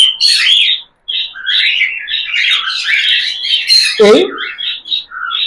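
Cockatiels kept as breeding pet birds squawk and chirp loudly and almost continuously nearby, with a brief pause near the start and a person speaking once.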